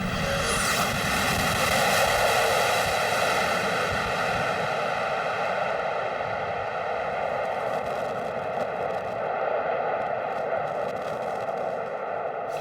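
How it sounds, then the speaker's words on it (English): An Ilyushin Il-76 jet freighter landing and rolling out on an ice runway, its engines giving a loud, steady roar with strong tonal whine that holds throughout without pause. "The Ilyushin 76 touches down, and because it's impossible to brake on ice, we have to wait until the plane rolls to a stop."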